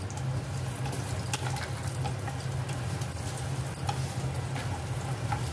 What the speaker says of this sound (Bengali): এবার এর ভিতরে ডালটা দিয়ে দিয়ে ভাজা ভাজা করতে হবে